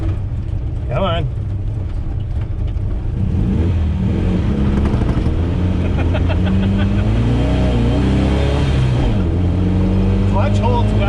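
A pink 1969 Volkswagen Beetle driving after years off the road, its air-cooled engine droning and revving steadily from inside the car, loud and continuous, with people talking over it.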